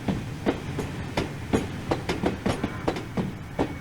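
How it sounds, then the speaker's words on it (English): Steam-hauled coaches in the Train Sim World game clatter over rail joints and points at about 15 miles an hour on the approach to Liverpool Lime Street, a steady, rhythmic clickety-clack at moderate loudness. "Love that noise of the coaches over the tracks, or the points."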